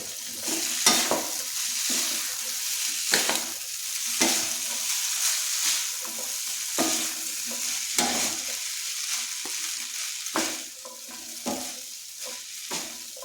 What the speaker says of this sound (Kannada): ನೋಡಿ ಇವಾಗ ಎಲ್ಲ ನೀಟಾಗಿ ಮಿಕ್ಸ್ ಆಗಿದೆ